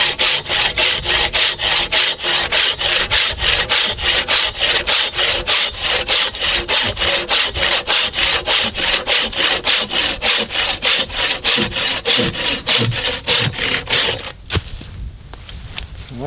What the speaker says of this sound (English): I'll show you the extra large tooth.